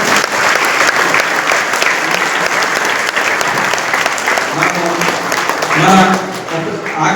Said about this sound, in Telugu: నవంబర్ యజ్ఞానికి గట్టిగా చప్పట్లు కొడదాం.